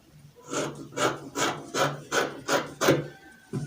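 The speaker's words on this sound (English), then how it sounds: "So I'll just trim this off." Scissors trim fabric with a steady series of about seven rhythmic crisp cutting snips, close and evenly spaced, heard alone.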